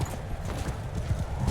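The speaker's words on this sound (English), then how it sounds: "Horse archers on the flank." Horses galloping into battle in the video game Mount & Blade Bannerlord, with dense, overlapping hoof clops drumming steadily and close, and faint whinnies mixed into the busy clatter.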